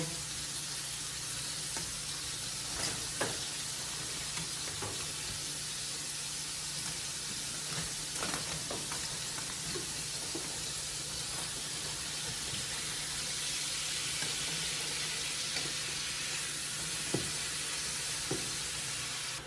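Beef for Mongolian beef sizzles steadily in a hot pan, a dense continuous frying hiss with occasional sharp pops and crackles, close and even throughout with no talking.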